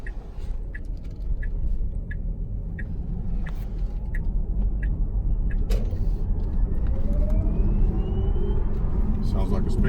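A Tesla Model S electric car drives along, a steady low road rumble and tyre noise from inside the cabin with faint whirring, while a person talks over it.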